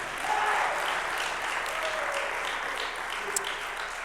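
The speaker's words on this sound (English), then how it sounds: "let's give a round of applause for them one more time" An audience applauds at a college athletics hall of fame induction ceremony, a steady, full wash of clapping from a crowd that sustains evenly for the whole stretch.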